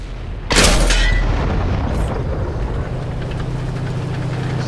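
Tank cannon fires in World of Tanks: one sharp, loud boom with a long rumbling decay, then a steady engine drone underneath.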